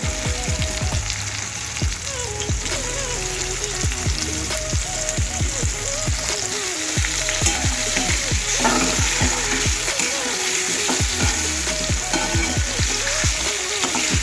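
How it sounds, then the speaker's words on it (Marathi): Potatoes drop into a hot frying pan with a loud burst of sizzling and spattering, and repeated scraping and stirring knocks sound close up over the constant frying. "आता यात थोडे बटाटे टाकूया आपण"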